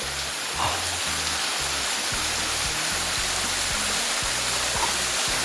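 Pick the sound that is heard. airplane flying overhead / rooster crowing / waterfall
waterfall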